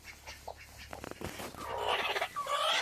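Hen clucking among her small chicks, soft bird calls and chirps close by, short and scattered at first and then rising into a denser, brighter stretch of calls.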